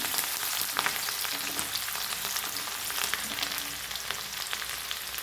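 Finely chopped green chillies and garlic frying in oil, a dense, continuous crackling sizzle that stays close and steady throughout.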